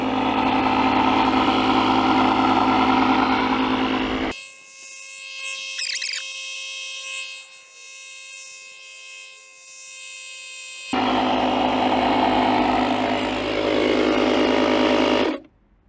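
JFEGWO 8000 A battery booster and tyre inflator running, a loud steady buzzing compressor drone that cuts out midway to quieter hum and beeps, then resumes at full volume before stopping.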